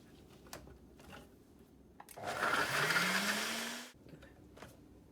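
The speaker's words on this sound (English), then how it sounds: "And now I'm just gonna blend for a minute." A blender whirs up loudly for a couple of seconds blending an ice smoothie, its motor pitch rising as it spins, then cuts off abruptly into quiet.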